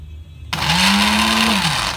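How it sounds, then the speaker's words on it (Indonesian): A kitchen blender switches on abruptly with a loud, close whir and spins up to a steady high-pitched roar, with its motor pitch sagging a little as it works. "Kita blender."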